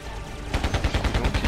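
Rapid cannon fire in the video game Carrier Command: Gaea Mission, a steady string of loud, evenly spaced thumping shots starting partway in over a rumbling background.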